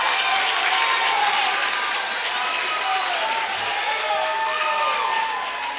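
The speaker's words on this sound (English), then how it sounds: "I guarantee you this crowd's going to go crazy." A wrestling crowd at a tournament cheers and applauds after a reversal, a loud sustained roar of claps and shouts with a commentator talking over it.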